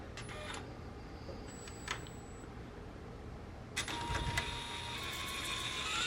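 A printer primes its print head, giving faint mechanical whirring and a few soft clicks that grow busier and louder toward the end, heard close with no voices.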